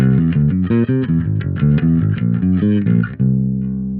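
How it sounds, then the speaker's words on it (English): A bass guitar plays a quick one-bar whole-tone-scale run of plucked notes in an even, rapid rhythm, ending on a long sustained low note. "a short 1-bar etude making use of a whole tone scale that sounds like this"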